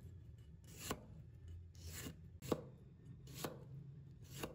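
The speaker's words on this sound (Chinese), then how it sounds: "接下来再准备2个漂亮的西红柿，然后把它切成片" A knife slices through ripe tomatoes on a cutting board, five crisp separate cuts at an unhurried, fairly even pace, each a short scraping thunk, close and quiet with nothing else heard.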